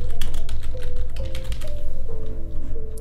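Someone types text on a computer keyboard while working in Photoshop: a steady, rapid run of close, crisp key clicks over a low constant hum, with no talking.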